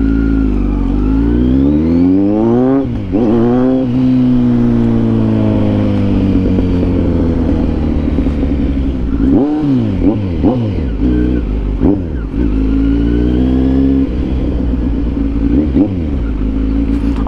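A Kawasaki Z900 motorcycle revs and accelerates up close and loud, its engine note repeatedly climbing through gear changes and dropping back, with no talking over it.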